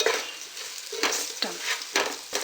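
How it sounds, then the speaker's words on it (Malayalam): Chilli, garam masala and ground cumin powders frying in very hot oil with stirring, giving a steady close sizzle broken by a few sharper bursts of scraping and spitting. "എണ്ണ നല്ല ചൂടായി നിൽക്കുന്നത് കൊണ്ട് തന്നെ പെട്ടെന്ന് തന്നെ പൊടികൾ മൂത്ത് കിട്ടും"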